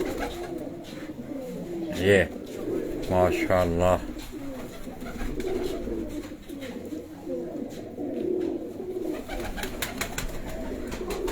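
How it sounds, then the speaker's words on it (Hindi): Sialkoti pigeons coo softly in a loft, giving low rolling calls under a man's nearby speech, with one brief louder fluttering burst early on. "इस तरह ये आप नीचे भी देख लें, ये नीचे भी बड़े अच्छे परिंदे हैं, ये बड़े अच्छे कबूतर"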